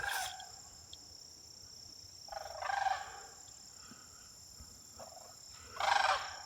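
Cranes call from a distance near an abandoned campground at Minnesota Valley State Park in September, giving rolling, trumpeting bursts in about three separate calls over quiet outdoor background with faint insects.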